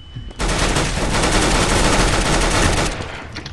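Sustained automatic gunfire in a first-person shooter video game, a dense loud burst of rapid shots lasting about two and a half seconds before cutting off.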